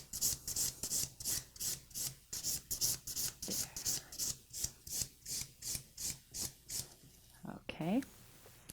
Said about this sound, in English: Now that you've done all 5 steps of filing on all 10 nails, dust off the nails.